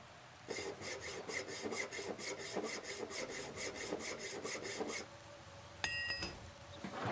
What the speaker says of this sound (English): I keep an eye on the durability of my hacksaw.